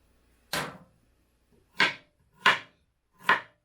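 Ginger gets sliced on a cutting board, giving four crisp, sharp knife chops close up: one alone, then three more evenly spaced after a pause, with near silence between.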